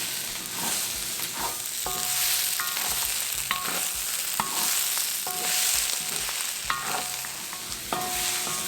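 Bottle gourd sabji fries in a pan with a continuous loud sizzle, while a spoon repeatedly scrapes and stirs against the metal in irregular strokes.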